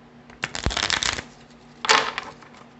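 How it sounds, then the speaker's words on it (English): A deck of playing cards being shuffled in two bursts of riffling and flicking, the first longer with a sharp tap partway through, the second shorter after a pause, close up with no talking. "I'm going to shuffle them"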